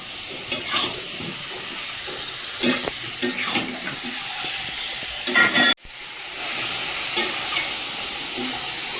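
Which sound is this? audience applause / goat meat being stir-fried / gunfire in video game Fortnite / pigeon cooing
goat meat being stir-fried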